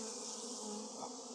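Bees pour out of an opened hive during a hive removal, a dense continuous buzz of many insects close by, steady and alone for a brief moment.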